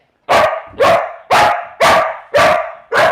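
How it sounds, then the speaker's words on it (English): A dog barks six times in a steady, evenly spaced rhythm, loud and close, each bark sharp and full with brief gaps of silence between. "He never barks at anything."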